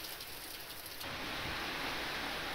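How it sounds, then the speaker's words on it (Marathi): Heavy monsoon rain pours down in Maharashtra, a dense, steady hiss of downpour that grows louder and fuller partway through, with no voices. "सर्वच्या सर्व 9 तालुक्यांमध्ये सध्या मुसळधार पाऊस बरसतोय"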